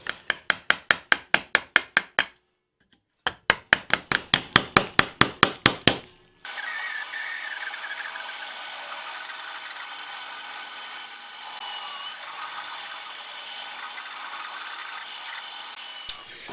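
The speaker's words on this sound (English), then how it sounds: "I think I'm going to try and chisel out a channel in there." A chisel cuts a channel into a wooden guitar body: two quick runs of sharp rhythmic taps, each a steady series of about ten strikes with a short pause between, followed by a long stretch of steady scraping, rubbing wood noise.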